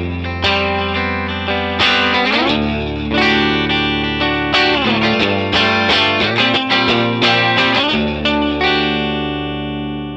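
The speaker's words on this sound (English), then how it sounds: "I'll do an edge of breakup sound and we'll just play around a little bit" A Kiesel electric guitar with Lace pickups, set to a bridge single-coil voicing at an edge-of-breakup tone, rings out in a slightly gritty, ringing run of chords and picked notes, steady and close, played alone without any voice.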